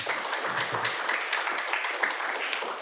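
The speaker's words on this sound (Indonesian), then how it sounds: "mari kita beri aplaus yang meriah" Steady, dense applause from an audience at an education event, sustained clapping filling the space evenly throughout.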